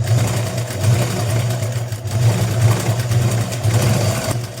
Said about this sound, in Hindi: पूरी हम सीधी सिलाई यहाँ पे लगा देंगे।